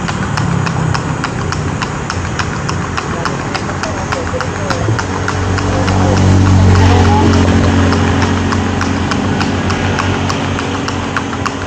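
Horse hooves clip-clopping in a steady fast rhythm alongside a running engine, loud and continuous throughout, with a voice talking over the sound.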